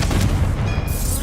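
A Confringo blasting spell goes off in Hogwarts Legacy, a loud, dense booming burst that fills the short moment on its own.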